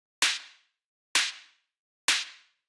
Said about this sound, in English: It's just this kind of like punchy drum machine style snare